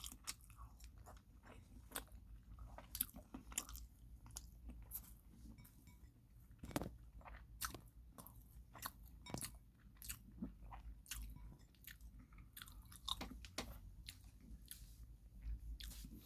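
Someone eats a dish of egg with potatoes and carrots, chewing and biting in soft, irregular crunches and squishes up close, with faint clinks of utensils against a dish.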